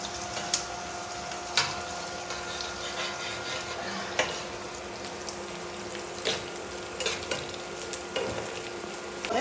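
Chopped onions frying with whole cumin in a pan for a chicken and yam curry, a soft continuous sizzle with regular spatula taps and stirs punctuating it.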